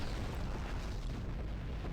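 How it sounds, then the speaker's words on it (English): Firework emote bursting in the space game Star Trek Online, a steady booming rumble of explosions that fills the whole moment with dense low crackle, no voices over it. "Love the firework emote."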